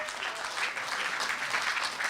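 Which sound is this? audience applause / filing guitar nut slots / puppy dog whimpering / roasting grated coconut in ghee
audience applause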